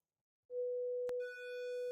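A pure sine tone from the reFX Rippler synthesizer starts abruptly and holds steady and clean, with a brief click partway through, after which harmonics are added to the sustained note.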